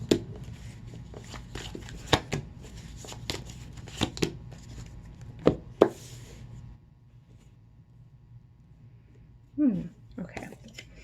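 Tarot cards being shuffled and handled, a run of crisp riffling flicks and slaps at close range, followed by a brief quiet stretch and a final soft card rustle.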